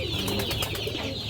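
Pigeons cooing continuously, a soft, throaty burble layered over background bird chatter, from a pen of top-quality Giribaz pigeons, close and moderately loud, with no talking.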